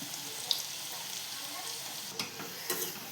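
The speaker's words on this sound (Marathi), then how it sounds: "यांना पण आपण फ्राय करून घेणार तसेच सेम." Snacks fry in hot oil in a home kitchen, a soft, steady sizzle and bubbling that continues throughout, with a couple of faint stirring or clinking sounds near the end.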